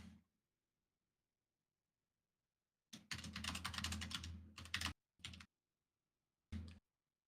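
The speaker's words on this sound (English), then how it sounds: "I hear you freaking frantically typing" Frantic bursts of typing on a mechanical keyboard, a long dense clatter of keystrokes followed by two shorter flurries, close and fairly loud with silence between.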